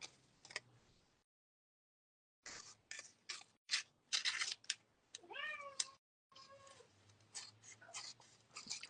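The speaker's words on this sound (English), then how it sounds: "my cat is all of a sudden down here screaming at me" A cat meows loudly and insistently at dinner time indoors, a series of drawn-out cries close by with brief pauses between them, with no talking.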